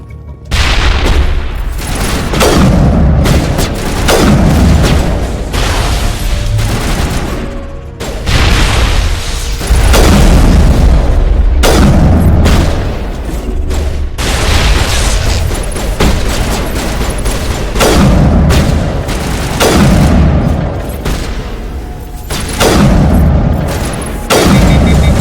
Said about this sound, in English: Oh yeah, I forgot I had grenades.